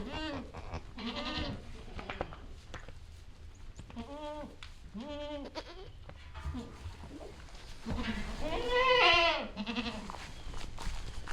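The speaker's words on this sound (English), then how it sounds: "How many little goats are under here?" Baby goats let out a series of short, wavering bleats, some close and some overlapping, on their first time outside, with a person speaking softly between the calls.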